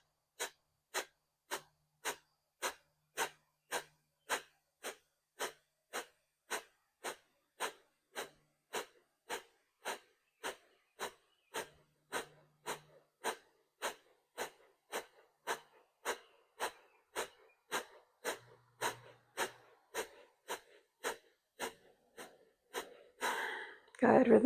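Rapid rhythmic breathing during a chakra yoga flow, dozens of short sharp forceful exhales pulsing at a steady pace for over twenty seconds, close and fairly quiet, ending with a louder breath burst.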